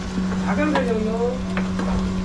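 Masala paste for chicken vade is frying and sizzling in hot oil, a steady close crackle that runs throughout, with a low hum and brief harmonic tones over it.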